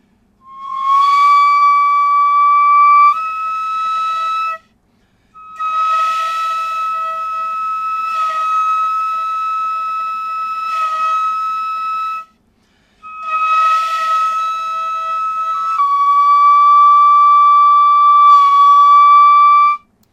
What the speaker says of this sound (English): Oh, this is ryuteki.